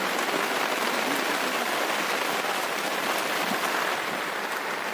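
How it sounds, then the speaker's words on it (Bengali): Heavy, steady rain pours down in the Sundarbans, a dense continuous wash of drops drumming on surfaces that stays loud and unbroken throughout, with no voices. "অনার্গাল বৃষ্টি, বৃষ্টি আর বৃষ্টি।"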